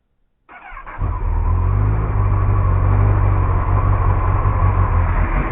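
A 2014 Kawasaki ZX10R motorcycle engine turns over with a short starter whir, fires, and settles into a loud, steady idle rumble close by.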